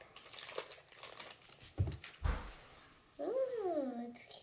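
Plastic packaging around a unicorn fidget toy crinkles and rustles in short bursts as it is opened up close, with a voice speaking near the end.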